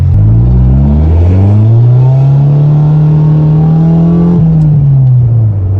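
A Honda Civic with a loud exhaust revs hard, its engine tone climbing, holding high and then dropping off, heavy and close with no talk over it.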